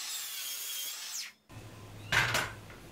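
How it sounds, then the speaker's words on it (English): A saw cutting through four stacked wooden frame pieces for a planter box at once, trimming their uneven ends to equal length; a short rasping stroke follows a brief pause, close and fairly loud, with no talking. "cut all 4 at once and trim these uneven edges down to exactly the same length"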